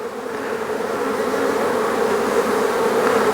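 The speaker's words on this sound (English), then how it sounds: "Gotta move slow when you're around bees." Honeybees buzz around an open beehive in a dense, steady drone close by that swells slightly louder toward the end, with no talking.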